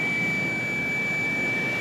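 A steady, high-pitched electronic beep tone from an electrical tester, checking a car ignition system, holds unbroken for the whole stretch, with a faint low hum underneath and no voices.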